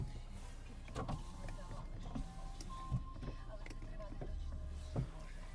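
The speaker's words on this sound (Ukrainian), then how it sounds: "Склопідйомник працює." A Volkswagen Golf 5 power window motor whirs quietly inside the car in several short runs a second or so apart, each a faint mechanical hum with soft clunks as the glass stops.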